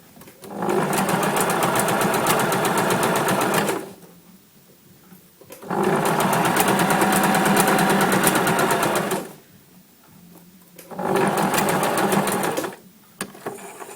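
A twin needle sewing machine hems stretch fabric in three sustained bursts of steady, close-up mechanical whirring, each lasting a few seconds and separated by short quiet pauses.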